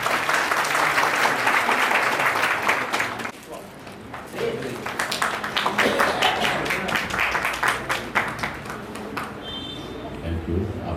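Loud, sustained applause from an audience at a library inauguration in Chandkheda, dense clapping for several seconds, dipping briefly, then swelling again before fading under a speaker's voice.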